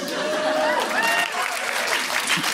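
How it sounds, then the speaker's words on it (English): A live audience at a comedy podcast recording claps and laughs in a short, loud burst, with cheers and voices mixed into the applause. "I feel you shouldn't applaud that"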